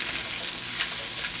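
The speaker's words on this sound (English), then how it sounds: "We're just bringing out all the natural flavor of this garlic, okay? We're just sweating it." Garlic sweats in butter in a pan, giving a steady soft sizzle with faint stirring scrapes, close and continuous with no talk.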